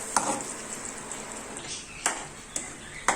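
Spiced potatoes for shahi dum aloo being stirred in a pan, a steady soft scraping broken by a few sharp metallic clinks of the spoon against the pan.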